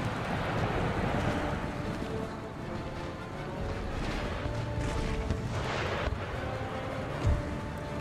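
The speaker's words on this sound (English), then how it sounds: "Howitzer shells coming in." Howitzer artillery shells firing and landing in the Empire: Total War video game, a continuous heavy rumble of distant booms and blasts that stays loud throughout, with no speech.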